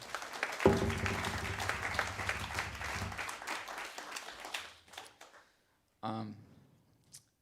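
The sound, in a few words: audience applause at a jazz concert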